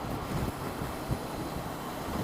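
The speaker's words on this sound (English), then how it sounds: "The wind is coming right off the sides of the windscreen and hit me right in my shoulders." Wind buffeting at the shoulders and helmet of a rider on a 2019 Honda CB500X motorcycle in fifth gear at about 60 mph, a constant loud roaring rush with no speech.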